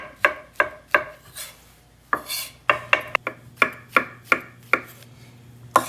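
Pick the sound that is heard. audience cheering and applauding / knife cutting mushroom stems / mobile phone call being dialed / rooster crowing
knife cutting mushroom stems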